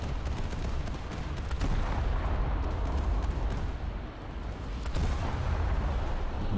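Naval gun fire from a warship in a warship-versus-tank video game, a dense, continuous rumble of booming blasts and rolling explosions that stays loud throughout.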